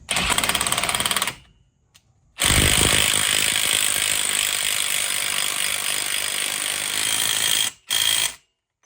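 A ratchet tightens bolts on a rear brake kit for a C5-C6 Corvette. Loud, rapid clicking comes in bursts: one long run, then a short break, a second extended stretch and a brief final burst.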